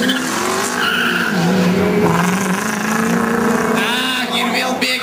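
A rally car at a drift race in Kaunas, its engine reportedly faltering, screams steadily near and loud with rising and falling revs and tyre squeal, voices faintly underneath.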